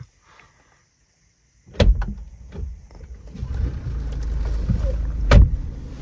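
A BMW 120d diesel car engine starting from a quiet cabin, with a sharp crank and a few clunks, then settling into a steady low idle rumble close by.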